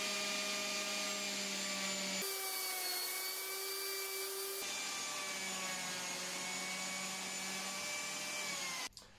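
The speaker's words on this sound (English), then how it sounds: "then you can set your depth on your biscuit jointer and just plunge in directly over the corner" A biscuit jointer plunges into the corner of a wooden woodworking build, its motor whining steadily at high pitch, the tone dropping under load for a couple of seconds as the blade cuts, then rising back before the tool cuts off.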